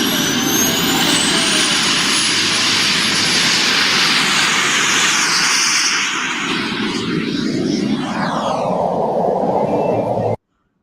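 An RC model airplane flies overhead on a winter day. Its motor makes a continuous whine and roar that swells and shifts pitch as it passes, over broad background rumble.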